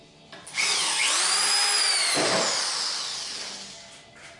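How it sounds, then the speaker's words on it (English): A power drill drives drywall screws into a wooden bridge frame. There is one continuous, loud, close whine whose pitch rises and falls as the screw bites and seats, with no talking. "got a couple more drywall screws to put in. So we'll put those in right now."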